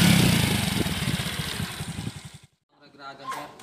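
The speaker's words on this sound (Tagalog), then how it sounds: "Goods na tong makina ni Bossing, oh." A freshly repaired motorcycle engine idles nearby with a fast, loud chugging that fades out after two seconds, followed by someone speaking.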